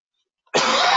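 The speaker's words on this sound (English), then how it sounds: "I've got a bit of a cough developing from talking without having a drink." A single harsh cough from a speaker during an online webinar bursts out abruptly after a moment of silence and is loud and close.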